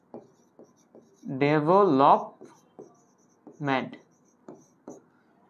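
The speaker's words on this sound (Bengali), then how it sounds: "এখানে লিখে দিচ্ছি" Strokes and taps of writing on a board during a lecture, short scratchy clicks scattered around a man's speech at close range.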